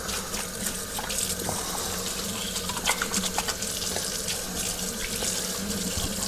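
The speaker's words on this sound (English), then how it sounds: "I'll just wash my hands" Hands rinsed under a running kitchen tap, a steady close splashing and gushing of water into a sink with small irregular spatters as the hands move, and no voices.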